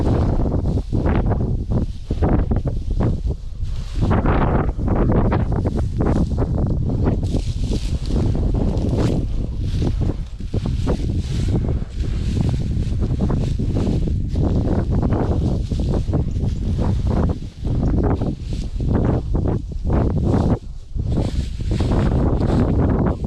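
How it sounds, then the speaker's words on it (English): Strong wind gusting outdoors at a trap line during the trapping season opener, a loud continuous roar buffeting the microphone with rustling bursts throughout, no talking. "Man, it's a windy one today."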